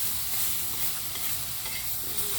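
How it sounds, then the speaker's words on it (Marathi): Chutney frying on a tawa griddle, a continuous close sizzle with faint stirring scrapes, steady and unbroken, no talking. "आता मम्मीनं घेतलं बघा मस्त तव्यावरती तळून"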